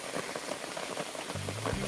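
Rain falling steadily outdoors, a dense even patter of drops on surfaces, moderately quiet and continuous with a low tonal hum entering near the end.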